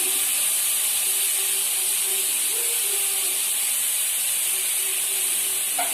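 Grated vegetables fry in a pan on a gas stove at full flame for spring rolls, a steady loud sizzling hiss that stays constant throughout, with a faint clink near the end.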